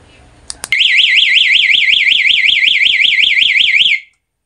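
A motorcycle two-way alarm system chirps briefly, then sounds a loud, close warbling electronic siren that pulses rapidly and evenly for about three seconds before cutting off.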